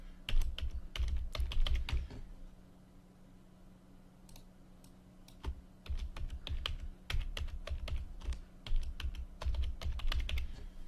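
A computer keyboard is typed on in close, quick bursts of clicking separated by a quiet pause, with a low steady hum underneath and no voices.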